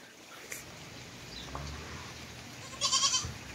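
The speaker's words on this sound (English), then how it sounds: "Yeah, but your goat, Zacchaeus, is way over here" Goats climbing over tree stumps let out a few faint, brief bleats, then one louder, closer bleat near the end, over quiet outdoor background noise.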